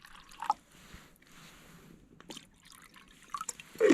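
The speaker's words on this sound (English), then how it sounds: "I'll take that, fill it up with water." Water poured from a container into a pot at a winter campfire, giving brief soft trickling and dripping splashes in quiet outdoor surroundings, with a louder splash near the end.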